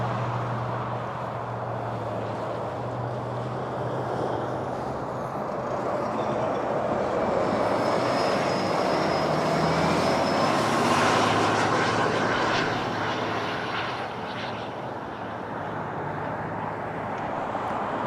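A jet airliner roars past landing on runway 24 left at Toronto Pearson Airport, its engine rumble and whine swelling to a peak midway before easing off, fairly loud and steady.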